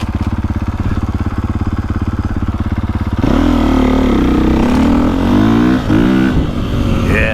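A KTM dirt bike engine, either a 450 Factory Edition or a 350 XCF, idles with a steady throb and then revs up and down loudly and close while riding a woods loop.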